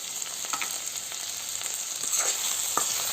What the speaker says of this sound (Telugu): సాల్ట్ యాడ్ చేసిన తర్వాత ఇంకాసేపు ఫ్రై చేస్తాం.